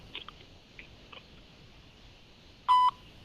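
A single loud electronic voicemail beep on a phone call, a steady tone of about a fifth of a second, preceded by faint clicks and line hiss.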